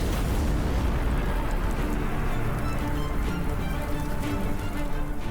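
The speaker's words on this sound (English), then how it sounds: "The giant French flagship L'Orient is destroyed in a massive explosion." Sound effect of the French flagship L'Orient blowing up in a massive naval explosion: a dense, sustained, loud rumbling roar that holds steady throughout, with no voices.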